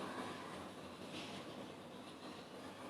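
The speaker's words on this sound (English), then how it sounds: "Let me just again use my hair dryer to" A hair dryer blowing, steady broadband whooshing airflow held at an even level, quite faint, with no voices.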